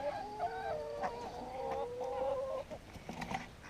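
Chickens cluck and murmur close by on a farm, a run of drawn-out, wavering clucks over a steady low outdoor background, ending with a couple of short calls.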